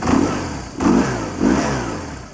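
A BMW R1100RT motorcycle engine revs three times in quick succession, each blip rising sharply then falling back toward idle, close and fairly loud.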